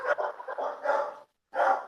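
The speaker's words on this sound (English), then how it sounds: "the dog barking in the background" A dog barks repeatedly in the background amid a poker tournament setting at the World Series of Poker, with a run of yips and barks, a short pause, then another burst.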